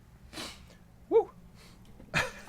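A single short sneeze bursts out between quiet breaths, close and fairly loud, against a faint low hum.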